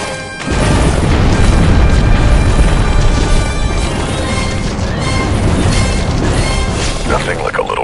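Heavy missile explosions tear through a Star Wars Republic Commando battle, one loud continuous roar of booms and crashing debris that rolls on for several seconds before easing slightly.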